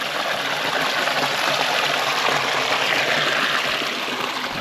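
A clear freshwater stream on a trip through the Konkan coast, flowing in a steady, loud, continuous rushing wash with no pauses.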